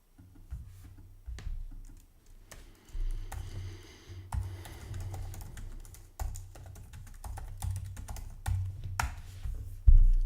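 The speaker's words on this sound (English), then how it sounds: "Sorry about the typing." Rapid clattering keystrokes on a computer keyboard in a courtroom setting, irregular bursts of close, distinct clicks with short pauses between them, and no voices over the typing.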